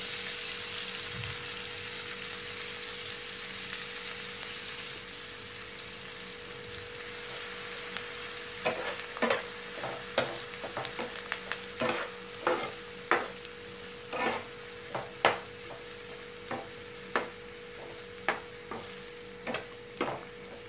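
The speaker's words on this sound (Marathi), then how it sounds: "ह्यामध्ये घालते 2 तेजपान, हे छोटा छोटा कट केलेला कांदा" Bay leaves and finely chopped onion frying in hot oil for an egg curry, a steady sizzle with a run of sharp stirring clicks and taps from a utensil in the pan, close and without talk.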